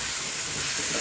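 Ground beef frying over a gas flame turned almost to maximum, hissing steadily and loudly up close as it is stirred and broken apart in the pan, with no talking.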